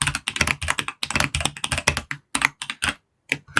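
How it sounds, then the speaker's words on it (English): Fast typing on a computer keyboard, dense bursts of clicking keystrokes close to the mic, with a couple of brief pauses and a final lone tap. "I can type"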